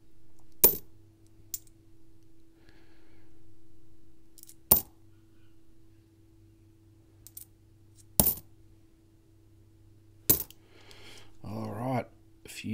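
Australian one-dollar coins are handled and dropped, giving several sharp, separate metallic clinks spaced a few seconds apart over a faint steady hum, with a brief rustle of handling near the end.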